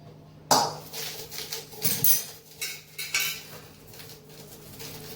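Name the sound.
stirring dal fry in a metal pot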